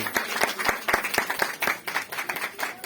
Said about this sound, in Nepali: सबैले ताली बजाउनुहोस्।